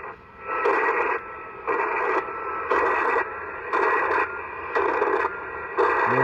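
FT8 digital mode signals received on a Yaesu FT-818 portable radio: a steady hiss broken by evenly spaced bursts of dense tonal data, about six pulses repeating roughly every second, close and fairly loud.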